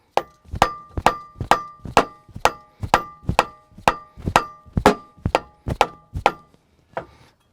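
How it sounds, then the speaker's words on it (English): Repeated hammer blows strike a car's lower suspension arm, about a dozen sharp metallic whacks at a steady, fairly quick rhythm, close and loud, with no talking. "Usually just encourage it with a hammer."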